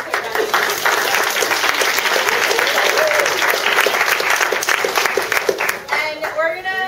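Loud, sustained applause from a crowd at a senior event with a food tent, dense clapping filling nearly seven seconds, with voices mixed in and tapering off at the close.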